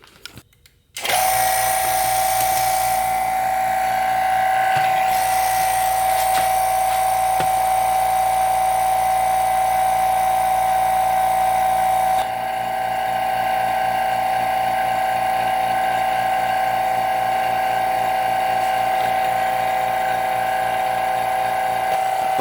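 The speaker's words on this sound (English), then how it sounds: "I've got my vacuum tank." A vacuum pump on a silver-casting tank starts with a click and runs continuously, a loud steady mechanical hum with a high whine that shifts slightly partway through.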